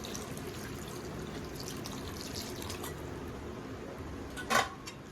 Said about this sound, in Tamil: ஓகே, வார்ம் வாட்டர் ஆட் பண்ணுறேன்.